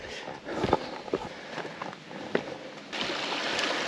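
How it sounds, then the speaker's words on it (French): Mountain streams trickle and burble on a family hike in Les Angles, a soft continuous flow of water with a few footsteps and splashes mixed in, fairly quiet. "il y a vraiment des ruisseaux de partout"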